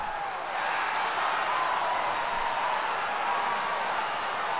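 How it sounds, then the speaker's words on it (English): Steady roar of a stadium crowd cheering at an opening-day race in the Cars Mater-National video game, a dense continuous wash of noise that holds evenly throughout. "Oh yeah, this is a great opening day crowd."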